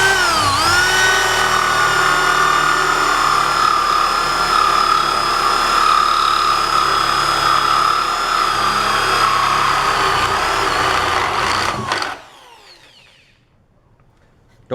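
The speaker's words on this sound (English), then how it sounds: "you can speed up the drill" An electric drill bores a hole in wood at the edge of a desk, a loud steady whine with a dip at the start, then it stops abruptly near the end.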